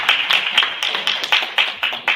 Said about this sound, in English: I'm going to make another applause.